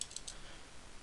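A few quick keystroke clicks on a computer keyboard while typing a search into Google, brief, close and fairly faint, with no voices.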